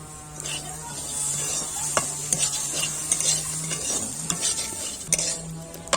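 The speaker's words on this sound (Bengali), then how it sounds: "দেখুন ভালো করে মিশিয়ে দিচ্ছি।" Pumpkin curry being stirred in a hot pan, a steady sizzle with repeated spatula scrapes and clinks against the metal, close and moderate, with a faint low hum underneath.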